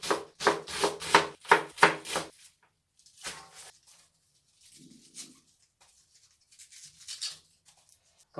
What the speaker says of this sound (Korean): 겉절이로 사용할 양배추는 한 1cm 정도 두께로 막 썰어주겠습니다